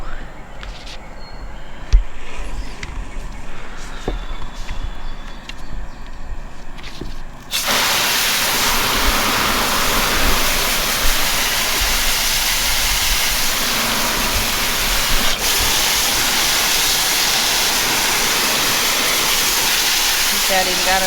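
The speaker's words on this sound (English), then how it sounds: "We're here to rinse out another t-shirt for you." Water from a vegetable sprayer nozzle rinses a pink and purple tie-dye t-shirt, starting as a softer mixed trickle and then becoming a loud, steady, broadband hiss of spray that runs continuously.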